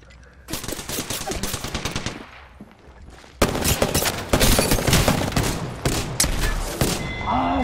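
Rapid automatic gunfire from the video game Apex Legends crackles in dense bursts, pausing briefly before a louder, sustained volley with scattered single shots.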